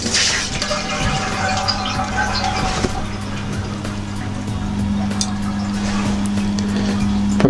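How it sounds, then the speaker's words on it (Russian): A borehole well pump runs with a steady motorized hum, close by and continuous, alongside the rushing noise of water flowing through the piping. "Пока насос еще работает."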